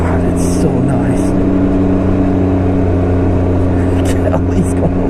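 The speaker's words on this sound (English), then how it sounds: "And you can hear the engine is not like revving, it's just the clutch is doing its job" A 2019 Can-Am Ryker 900 three-wheeler pulls away smoothly, its engine a steady, even hum without revving, heard under a rider talking and wind noise.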